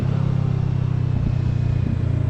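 Kawasaki Ninja 650 parallel-twin motorcycle, 40th Anniversary Edition, running steadily on the road with a constant loud engine drone while shifting down from fifth gear, two brief blips of rising revs near the end.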